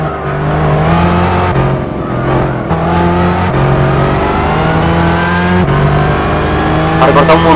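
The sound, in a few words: car engine revving in Gran Turismo 6 video game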